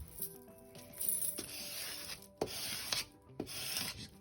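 A Cricut scraper rubs paper down onto a notebook cover in repeated bursts of dry scraping, each stroke lasting about a second with short pauses and a few sharp taps between them, close and clear.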